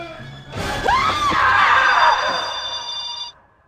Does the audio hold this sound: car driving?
no